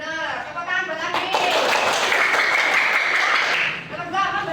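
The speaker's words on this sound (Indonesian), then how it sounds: "Tepuk tangan buat Adi." Children in a classroom clap for a classmate, a burst of brisk applause of about three seconds that starts suddenly and then fades out, with a teacher speaking just before and just after.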